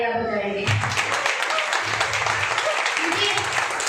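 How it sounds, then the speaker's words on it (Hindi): An audience clapping loudly together at a gathering, a dense burst of applause that begins after a brief voice and continues steadily for a few seconds. "आप एक बार जोर से तालियां बजाएं।"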